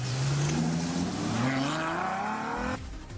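A V12 sports car engine revs hard under acceleration from 0 to 60, pitch rising steadily through the gears before cutting off near the end, loud and close.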